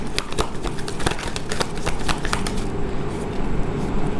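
A deck of tarot cards is shuffled by hand, producing a quick run of crisp riffling snaps and slaps up close before the rhythm eases into softer rustling.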